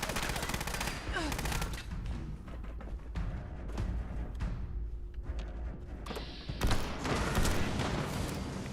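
Fallout 76 gunfire comes in dense bursts of rapid shots and crackling volleys. The fire runs nearly continuously at moderate loudness, with brief lulls and a heavier burst near the end.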